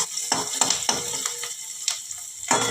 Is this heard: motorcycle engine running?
no